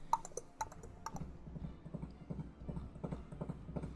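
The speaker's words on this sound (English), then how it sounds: "I can hear the hoof beats of this creature running towards me." A horse's hooves clop toward the listener on a dark night, a quick uneven run of sharp knocks with a softer ticking patter beneath, fairly faint and without any voices.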